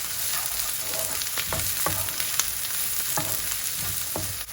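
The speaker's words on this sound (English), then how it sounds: "So next goes in the chopped up garlic. I'm going to cook for another minute." Chopped garlic and onions fry in a pan with a steady, dense sizzle, broken by several sharp scrapes and knocks of stirring.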